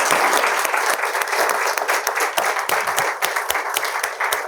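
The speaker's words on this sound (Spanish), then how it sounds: "Les damos un fuerte aplauso." An audience gives loud applause at the close of a panel dialogue, a dense, sustained burst of clapping with individual sharp claps standing out throughout.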